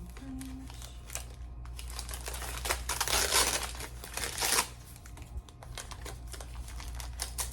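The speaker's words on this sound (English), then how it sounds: "the crinkling of the paper" Paper packing material crinkles and rustles continuously while a plant subscription box of rare houseplants is unpacked, with bursts of louder crackling in the middle over a low steady hum.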